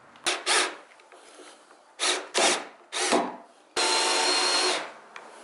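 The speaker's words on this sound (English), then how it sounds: "So I'm going to screw through that hole, and that'll hold this in place" A power drill drives a screw into wood and PVC while building a ten-foot skate box, sounding as several short whirring bursts of rising and falling pitch, then one longer steady run, close and loud with no talking.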